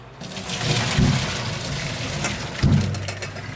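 Hot water from boiled edamame pours out as the pot is drained, a close, steady gushing splash with two heavier surges partway through.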